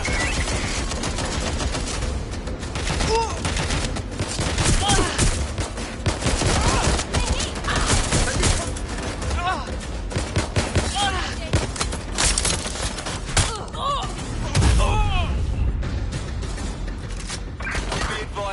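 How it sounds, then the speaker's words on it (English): Suppressing gunfire in the Watch Dogs Legion video game: a dense, continuous barrage of rapid shots and mechanical clatter running throughout, loud and close, with voices shouting over it. "Suppressing fire!"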